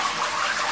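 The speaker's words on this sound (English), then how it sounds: "It's the biggest toilet flusher in the world." A very large toilet flushes with a steady rush of water, a broad wash of sound that stays loud and even, with no clear start or end.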